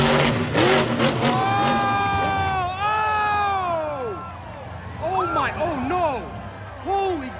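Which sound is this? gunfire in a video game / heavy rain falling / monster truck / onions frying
monster truck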